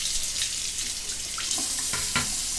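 A faucet runs steadily into a sink to rinse a shaving razor, a close hissing stream with a few clinks and splashes near the end.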